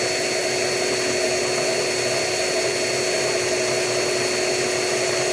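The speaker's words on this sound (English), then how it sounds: "while I'm pulling, I'm going to be turning the drill, and that's going to straighten the wire." Power drill spinning a length of wire to straighten it, giving a steady, even whine with no change in pitch, continuous and close for several seconds.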